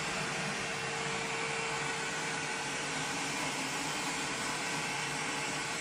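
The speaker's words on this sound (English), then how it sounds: "Vacuum all the cracks in the chair." A vacuum cleaner runs steadily and close by, its broadband motor roar and faint whine holding constant throughout while suctioning the cracks of a chair during bed bug treatment.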